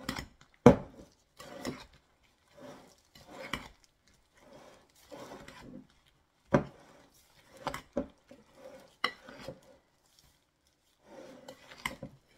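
Chicken wings being mixed with a spoon in a bowl at home, quiet scattered scraping and rubbing strokes in irregular bursts with short pauses between, close and faint.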